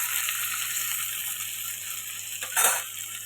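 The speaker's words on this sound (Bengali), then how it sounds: "দেখুন, আস্তে আস্তে কি সুন্দর ভাজা হচ্ছে" Hilsa fish wrapped in banana leaf with mustard fries in a pan, giving a steady bright sizzle over a faint low hum, with one brief louder crackle near the end.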